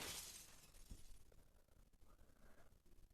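Glass doors shatter when thrown in a video game where everything can be hurled, a bright crash of breaking glass at the start that fades into quieter tinkling debris.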